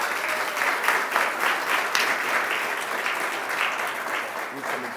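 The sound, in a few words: audience applause at an anniversary ceremony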